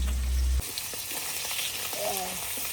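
Pieces of rohu fish fry in a pan with a steady, close sizzle that follows a brief loud thump at the start, and a faint voice briefly rises near the end.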